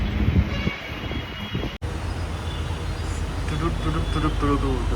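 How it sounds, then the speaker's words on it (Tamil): A Hyderabad Metro train rumbles along with a steady low roar and rising mechanical whine, a brief dropout partway through, with muffled voices faintly underneath. "so this is the Hyderabad metro"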